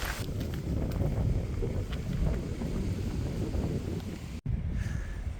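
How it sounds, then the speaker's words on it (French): Strong wind buffets the microphone in a constant low roar on a hiking trail in Fuerteventura, Canary Islands, gusting unevenly with a brief dropout, and no one speaking. "Vous entendez le vent dans la vidéo,"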